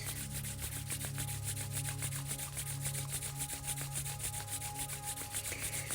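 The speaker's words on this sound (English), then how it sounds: "bring your palms together, just like as if you were in prayer, and start rubbing them together" Palms rub together in a steady, continuous swishing friction, close and even, with no voices.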